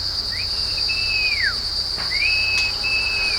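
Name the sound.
imitated whistle of a small bird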